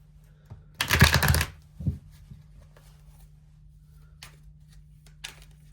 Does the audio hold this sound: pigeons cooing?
no